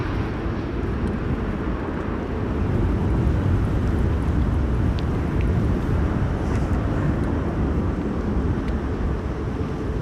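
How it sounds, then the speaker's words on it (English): Airbus A350 airliner taxiing for departure at Amsterdam Schiphol Airport during Storm Amy, a steady low rumbling engine roar at a distance, blended with gusting wind buffeting the microphone and holding constant throughout. "A350 in the background that is also coming this way for departure"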